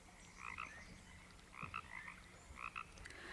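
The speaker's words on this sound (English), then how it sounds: "The harmless-looking tree frog has only been here for around 20 years, but has already populated half of the island." A tree frog gives short croaking calls in three evenly spaced bursts, each a quick double or triple chirp, faint against a quiet natural background.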